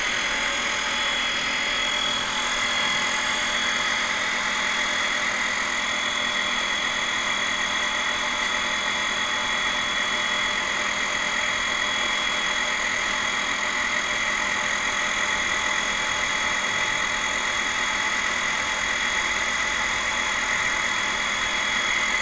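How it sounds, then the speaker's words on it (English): A DC motor running on 32 volts in a lab, paired with a generator, gives a steady high-pitched whine and hum that holds unchanged throughout, alone and close. "For that we want 32 volt DC The motor has started running."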